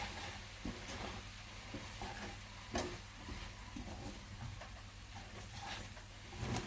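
A spoon stirs lasagne sauce around a pan, scraping and sloshing with soft clinks over a low steady sizzle, close and fairly quiet, with a few sharper knocks along the way.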